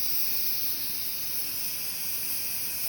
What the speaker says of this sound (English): you can see the steam is coming out